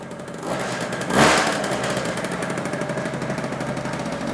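An old Honda two-stroke engine runs hard and close in a garage, heavily smoking from the exhaust, giving a rapid, rattling buzz with a brief louder surge, then settling into a steady, pulsing idle.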